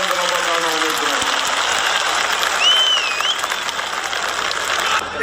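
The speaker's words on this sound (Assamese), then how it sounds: "মহোদয়াক এই হাত চাপৰি অভিনন্দন জনাবৰ কাৰণে অনুৰোধ জনাইছোঁ।" An audience at a public ceremony gives sustained, thick applause. The broad wash of clapping runs throughout, with a brief whistle-like tone rising above it midway and faint voices mixed in.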